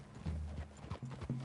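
Horse hooves clip-clop in Red Dead Redemption 2, a short run of close, steady steps with a brief whinny-like tone, no talk.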